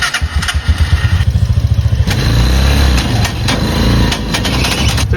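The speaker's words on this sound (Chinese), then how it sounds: "在一档的时候发动机当当当响" Motorcycle engine running in first gear with a worn first-gear cog or failing main/countershaft bearing, giving a steady close-up rhythmic knocking over the engine drone, loud and continuous with no talk.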